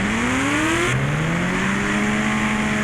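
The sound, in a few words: motorbike engine revving in a video game, riding through water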